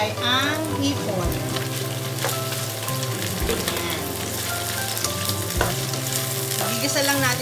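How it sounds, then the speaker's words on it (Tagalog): Shrimp sautés in a hot pan for pansit bato, with a steady, loud sizzle and occasional stirring scrapes throughout. "Pwede na natin ilagay ang hipon."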